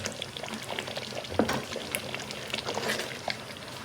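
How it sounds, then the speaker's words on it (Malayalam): Second-extract coconut milk pours into a pot of jackfruit payasam with a soft liquid splashing and gurgle, faint and continuous, a light bubbling underneath. "ഇനിയിപ്പോൾ നമ്മൾ 2-ാം പാൽ ഒഴിക്കും"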